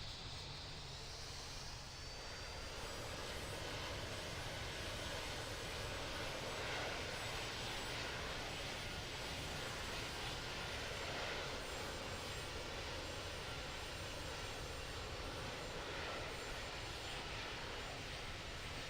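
Aircraft taking off from runway 9 right at London Heathrow, a steady broad engine roar that holds loud and continuous throughout with no talk over it.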